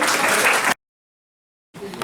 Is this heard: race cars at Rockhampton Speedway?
no